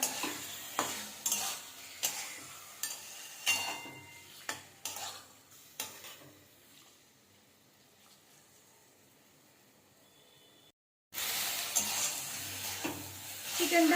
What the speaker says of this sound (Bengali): ভেজে নেব ভালো করে চিকেনটা